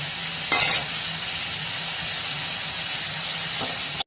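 Cumin and turmeric tempering for khichuri fries in hot oil, giving a loud, continuous sizzle and hiss with a sharper scrape of stirring near the start and a brief clatter at the end.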